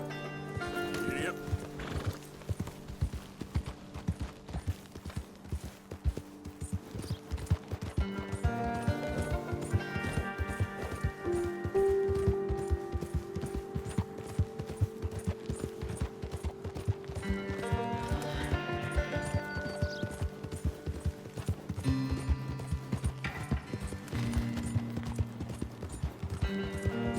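Horse galloping in Red Dead Redemption 2, with steady clip-clop hoofbeats and intermittent neighs and whinnies beneath continuous music and game ambience, a voice speaking briefly.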